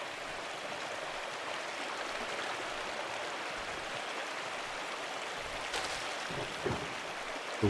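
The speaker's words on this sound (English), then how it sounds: "The waterfall is always so beautiful." Waterfall in the game Pentiment, a steady broadband rush of falling water, moderately quiet and unbroken, with a few faint clicks near the end and no talking.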